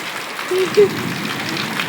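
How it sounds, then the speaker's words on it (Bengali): Steady rain falls with a soft, even hiss, a brief faint voice sound briefly rising above it. "কত সুন্দর বৃষ্টি পড়ছে"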